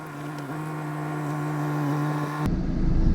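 A boat engine idles steadily with a smooth, even hum, then shifts to a rougher, louder rumble near the end, heard close with no talking.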